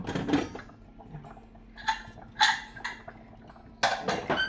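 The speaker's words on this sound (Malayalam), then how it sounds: "കുക്കർ നമുക്ക് തുറന്നു നോക്കാം എന്തായി" Pressure cooker lid being opened while making sambar, with sharp metallic clinks and scrapes of the lid and pot in short bursts, separated by quiet kitchen pauses and a faint steady hum.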